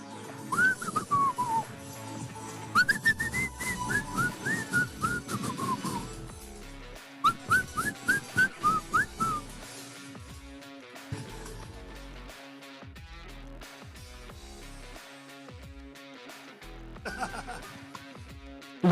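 A person whistles a bright, warbling tune in quick rising and falling phrases, close and clear, at a cross duathlon world championships finish line, before the whistling stops and other sounds carry on.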